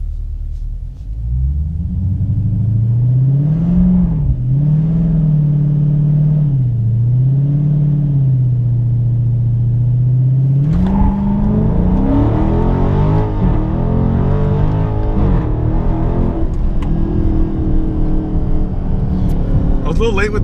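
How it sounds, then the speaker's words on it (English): A car on launch control accelerates hard from a steady high-revving hold, then pulls through the gears with rising engine pitch and shifts, loud and close, with a little talk over it. "So I'm actually going to try the launch control."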